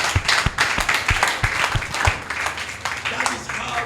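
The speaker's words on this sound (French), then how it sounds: "Applaudissements pour le" Applause from an audience at a church gathering, a brisk, uneven patter of hand claps with some sharper individual claps standing out, moderately near and mixed with voices.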